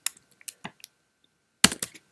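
Light clicking keystrokes on an Apple Mac keyboard as a Shift Command shortcut is typed, a handful of crisp close taps followed by a tight cluster of presses after a short pause.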